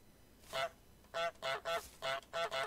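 In Untitled Goose Game, a goose honks seven times in quick, short, nasal bursts, one then two then four in a rough pattern, close and clear over a faint background hum.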